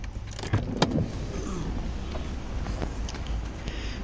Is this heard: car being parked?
yes